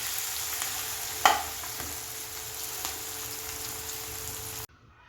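Dhokla tempering of green chillies, curry leaves and sesame seeds sizzles steadily and softly in a pan, with a brief clatter of stirring before it stops abruptly.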